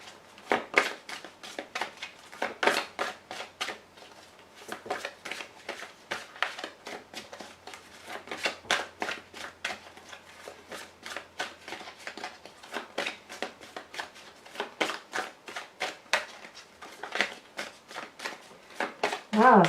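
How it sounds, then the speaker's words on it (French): Playing cards shuffled for a tarot reading, a long run of quick crisp riffling bursts and flicks close by, repeating steadily throughout with no one speaking. "Je vais être obligée de tirer les cartes."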